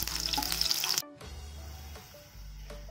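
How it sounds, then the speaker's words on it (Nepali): Onion frying in a pan and being stirred, a steady sizzle with scraping strokes, briefly cutting out then resuming close and moderately loud without talk. "प्याज चाहिँ यसलाई मजाले चलाउनुहोस् है"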